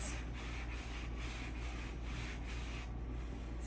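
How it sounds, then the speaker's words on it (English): A buffing brush rubs repeatedly over a wax finish on a painted surface, producing a steady close scrubbing hiss with a regular back-and-forth rhythm. "So you can take this buffing brush and go like this."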